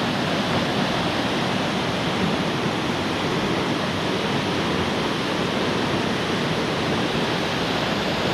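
A waterfall at Minnewaska Park drops into a deep pool below, making a steady, dense roar of falling water that stays loud and unbroken throughout, with no voices.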